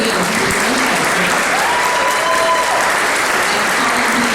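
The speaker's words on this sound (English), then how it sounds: "let's give a big round of applause to Karen Johnson" Loud, sustained applause from a crowd at a donor and volunteer event, an unbroken wash of clapping close and even from start to finish.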